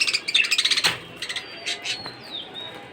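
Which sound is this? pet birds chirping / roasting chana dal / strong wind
pet birds chirping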